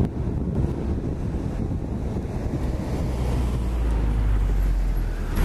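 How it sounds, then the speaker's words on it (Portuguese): Strong crosswind at Guarulhos airport, a steady loud roaring gust buffeting the microphone, with a low rumble building toward the end. "Hoje o vento aqui tá forte demais."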